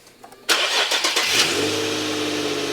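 An Infiniti G35x started by push button with the smart key: a quiet lead-in, then the engine cranks and catches with a loud burst, revs briefly and settles into a smooth, steady idle.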